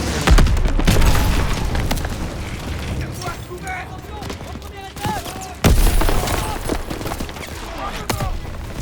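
Machine gun fire in the World War II shooter game Call of Duty WWII rattles in loud bursts with booming impacts and explosions around it, while voices shout over the battle.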